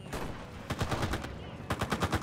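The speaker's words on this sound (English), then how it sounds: "I'm shooting the sandbags probably more than people" Rapid bursts of gunfire from the World War II shooter game Enlisted, with rhythmic volleys of automatic shots that pause briefly and then resume, loud and close with no talking over them.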